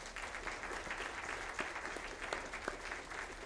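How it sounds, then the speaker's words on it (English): An audience at a college town hall gives Melinda Pash a round of applause, an even, sustained patter of many hands heard from some distance at modest volume, with a few sharper claps standing out. "Give Melinda a round of applause."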